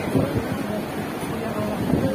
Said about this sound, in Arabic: شوفوا قوة الرياح